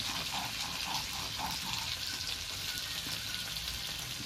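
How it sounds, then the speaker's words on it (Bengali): Taro and potato pieces seasoned with salt and turmeric fry in a pan, giving a steady soft sizzle with faint stirring scrapes and clinks in the first half, fairly quiet throughout. "লবণ হলুদ দিয়ে দিয়েছি, এবার কচু আলুটাকে একটু নেড়ে চেড়ে নেবো"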